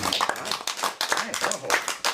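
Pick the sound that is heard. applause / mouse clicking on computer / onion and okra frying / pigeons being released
applause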